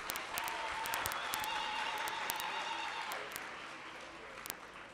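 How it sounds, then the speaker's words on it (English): An audience applauds at a community colleges infrastructure programme launch, a moderate, steady wash of clapping with a faint tone under it and a few sharp clicks scattered on top, fading slightly near the end. "Give them a round of applause again."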